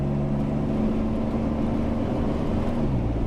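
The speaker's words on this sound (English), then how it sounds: "Going to have to give it a little more throttle here to get into 4th." A car engine on a dyno holds steady under increased throttle while shifting into fourth gear, giving a constant low droning hum with faint harmonic tones, close and continuous.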